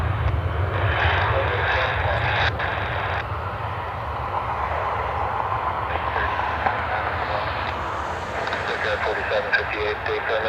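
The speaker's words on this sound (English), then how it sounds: "Challenger heading out." A Challenger business jet departs Cleveland Hopkins airport, its engines a steady distant roar sustained throughout with a slight rise near the end.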